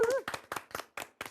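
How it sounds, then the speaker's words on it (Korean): An audience on a Korean music talk show claps in unison, six sharp, evenly spaced claps keeping time at close range. "저희가 한번 박수로 한번 쳐겨보겠습니다"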